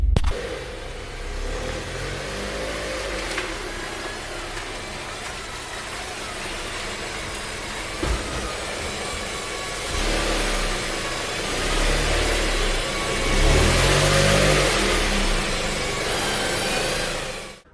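A Mazda 3 engine idles and rumbles nearby, revving up a little partway through as the car drives into a garage, then settling before cutting off at the end.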